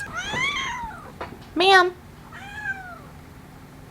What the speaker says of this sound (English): And now my roommate's cat's yelling at me.